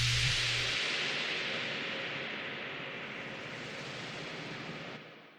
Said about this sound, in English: Then we have our white noise.